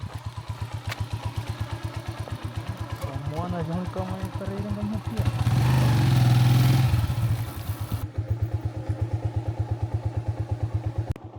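A motorcycle on a dug-up road in Mohéli, Comoros, idles with a steady close thumping, then revs up for a couple of seconds before settling back to a chugging idle, with voices heard in between.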